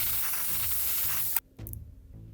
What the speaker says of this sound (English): Be airbrushing that on.